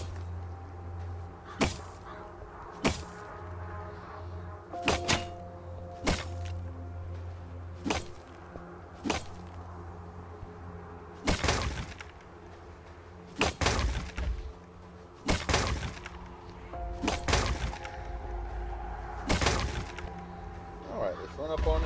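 Repeated sharp cracking impacts as containers are smashed open with a stop sign in the video game Last Day on Earth, about a dozen hits at irregular intervals, with someone talking between them.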